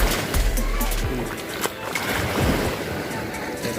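Strong sea waves wash steadily onto Sealine Beach at Mesaieed, a continuous broadband rush of surf with wind buffeting the microphone, loud and close throughout.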